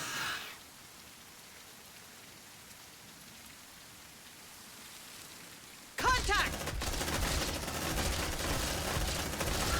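Suppressive gunfire in the video game Aliens: Dark Descent erupts suddenly partway through after a quiet stretch, a dense, loud, sustained rattle of rapid shots that keeps going to the end.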